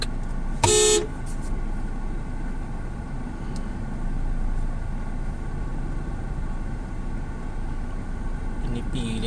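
A car horn gives one short, loud honk early on, then a steady rumble of heavy road traffic continues on the drive from NAIA Terminal 3 to BGC Taguig.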